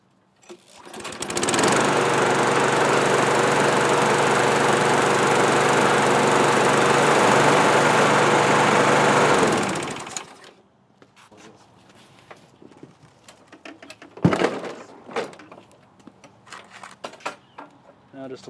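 A Craftsman self-propelled lawn mower engine runs loud and steady for about eight seconds, then cuts off and winds down, followed by quieter clanks, handling noises and footsteps.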